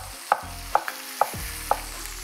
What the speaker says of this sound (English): So we're gonna cook our lobster shells for 6-8 minutes on medium-low heat.